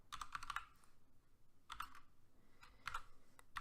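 Bursts of typing on a computer keyboard, close and crisp, in three quick clusters of key clicks separated by short pauses, with no voices.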